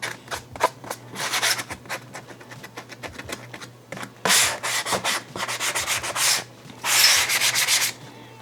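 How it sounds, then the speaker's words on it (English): Hand sanding along the edges of a laser-cut wooden puzzle, in quick rasping strokes in bursts and pauses, close up over a low steady background hum, with no talking. "Sand down the edges on here."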